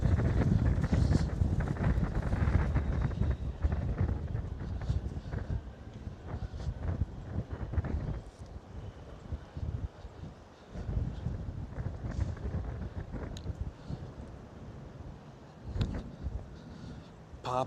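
Strong wind on a city walk through Ponta Delgada, São Miguel, Azores, rumbles and buffets the microphone in uneven gusts, fairly subdued overall and easing at times before picking up again.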